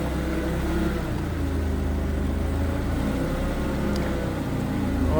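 A 2008 Mitsubishi Caterpillar 5000 lb forklift drives over a bump while its engine holds a low, steady hum, with only a faint knock partway through.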